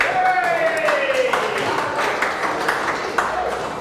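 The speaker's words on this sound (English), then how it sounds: "Ladies and gentlemen, big round of applause for Peter Super Carey." Audience clapping for a guest at a talk show, a light, scattered patter of hands fairly close by, with a tonal sweep and someone's voice over it.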